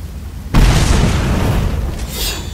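A grenade explodes in the video game Fable 3 with a sudden loud boom, followed by a heavy, sustained rumbling roar that slowly tails off.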